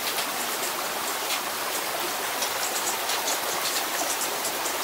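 Steady stream water flowing outdoors on open land, a continuous close rushing and trickling wash with no voices over it.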